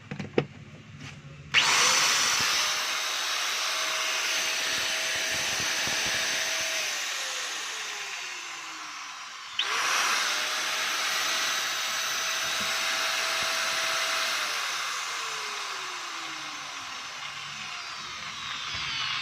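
A DeWalt DWE8300S 4-inch angle grinder runs loud and steady close by, a high whine that rises and falls twice as it is switched off and restarted, no voices.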